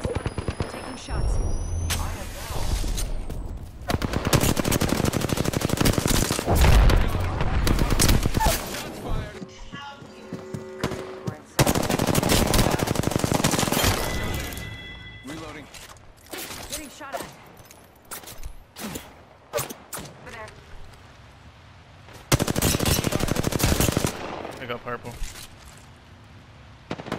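Loud bursts of automatic gunfire in a shooter video game, long sustained volleys broken by pauses and scattered single shots, with a player's voice coming through between them.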